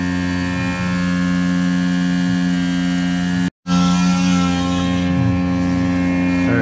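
A Tormach 770M CNC mill machining 6061 aluminum gives a steady, close, droning whine layered with hum. A split-second dropout to silence falls midway, and no one speaks.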